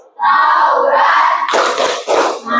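Rhythmic hand clapping in a classroom clapping chant, loud and close, breaking into sharp bursts of claps after a stretch of group voices singing.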